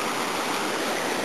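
A river that has split its course after flooding rushes past, a steady, fairly loud broadband flow with no speech.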